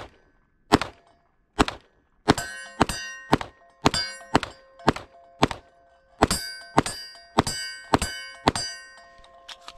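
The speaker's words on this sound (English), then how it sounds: "I just want to run 30 rounds through it real quick." Palmetto State Armory Dagger Compact pistol firing a string of rounds, loud sharp reports in uneven bursts with brief pauses between shots, nearby and without talk.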